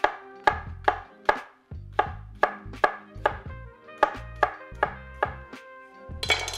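A knife roughly slicing a shallot on a cutting board, about a dozen crisp, close knocks in an uneven rhythm, with no voices.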